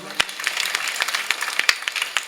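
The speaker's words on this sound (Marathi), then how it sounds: "महाराष्ट्रामध्ये जोरदार टाळी वाजवा" Audience applause at a kirtan, a devotional singing event in Maharashtra: a sustained, steady patter of many hands clapping, with a few sharper claps standing out, heard on its own without talk.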